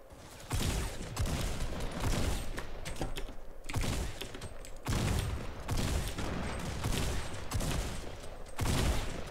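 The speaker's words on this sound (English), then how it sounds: "that guy's shooting behind that tree" Gunfire bursts in Fortnite Battle Royale come in several long, loud, dense volleys separated by short pauses, the rapid crackling shots filling the mix.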